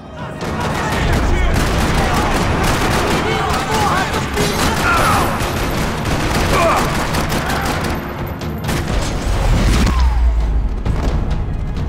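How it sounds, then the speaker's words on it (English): Dense, sustained gunfire echoes through a parking lot in the Max Payne 3 video game: rapid rattling bursts and heavy booms overlap continuously and loudly for the whole stretch. "Another parking lot rattling with gunfire."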